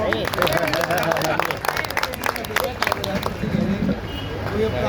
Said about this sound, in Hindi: तालियां बजा दें प्लीज।